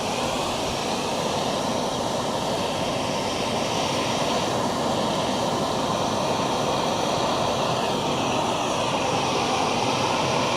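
A Primus Express Spider camping stove roars steadily at full burn like a small jet, a dense, loud, continuous hiss and rumble close by, with no talking over it.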